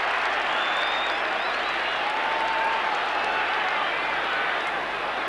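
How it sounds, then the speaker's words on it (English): A stadium crowd at a 1990 Australian football match between North Melbourne and Collingwood roars and applauds continuously, a broad, steady wash of cheering and clapping with no break. "I can just detect the excitement in the crowd as Longmire gets his hands on the football"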